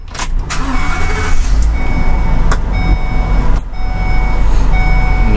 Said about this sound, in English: This is a 20-foot truck.